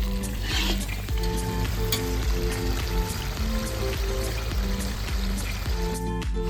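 Red chili goes into a hot pan for Schezwan fried rice, bringing a loud, dense, crackling sizzle that holds steady throughout, with no talking.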